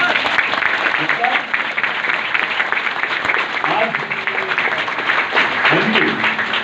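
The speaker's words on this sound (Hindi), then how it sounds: "उसके लिए ना दिल से ताली हो जाए, दिल से एकदम।" Audience applause at a business gathering in Mumbai, a dense, sustained patter of many hands under a speaking voice that carries over it throughout.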